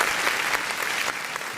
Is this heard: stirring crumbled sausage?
no